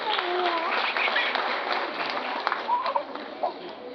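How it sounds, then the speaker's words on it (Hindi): An audience applauds to welcome a performer onto a stage, dense steady clapping from a crowd that tapers off with a few scattered claps near the end. "तालियों से स्वागत करें"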